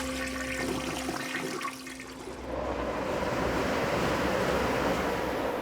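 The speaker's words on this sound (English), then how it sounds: "when we flush, not all of our poop goes down the toilet." A toilet flushes with a loud rushing gush of water, a brief dip, then a sustained turbulent swirl and drain that fills the clip, with no voices.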